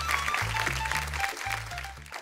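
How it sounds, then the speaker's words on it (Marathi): A studio audience on a Marathi game show claps in a steady burst that fills the moment, with music tones and a host's voice faintly underneath. "लवकर दोनदा टाळ्या झाल्या पाहिजे"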